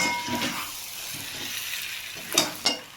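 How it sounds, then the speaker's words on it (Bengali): Fried small potatoes with spices are stirred in a pan over a soft sizzle, with light scraping strokes and two sharper clinks of a utensil near the end. "এবার আলুগুলো দিয়ে আমি কিন্তু এটা ভালো করে আবার একটু নাড়াচাড়া করে নেব।"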